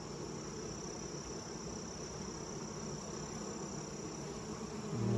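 Honeybees hum steadily in a mating nuc colony during a hive inspection, a dense close buzz that holds at one level throughout and swells slightly at the end.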